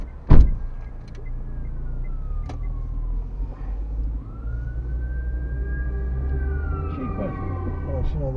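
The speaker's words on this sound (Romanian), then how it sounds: "Mașina de pompieri." A fire engine siren wails and sweeps as it passes on a town street, rising then falling away under steady car noise, with a sharp thump near the start and brief voices.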